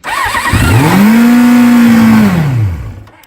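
A Baotian BT49QT-12 scooter with carburetor trouble and a throttle problem starts up loud and close, its engine quickly revving to a high, steady whine for about two seconds before the revs drop away.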